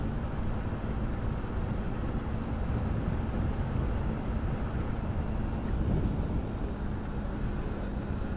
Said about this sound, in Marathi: बारिश चालू हो गई है दोस्तों.